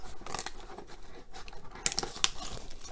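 Plastic wrap being cut off a 2019 Panini Phoenix Football hobby box of trading cards, a few seconds of close crinkling, snipping and scratching with sharp little clicks near the end.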